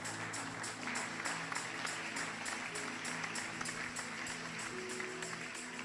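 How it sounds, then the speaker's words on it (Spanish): A church congregation applauds steadily for several seconds, a dense, sustained wash of clapping at moderate level with faint tonal background underneath. "Un aplauso fuerte al Señor."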